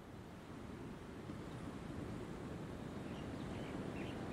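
Ocean waves wash onto the shore in an outdoor setting, giving a faint, steady, continuous surf roar with no speech.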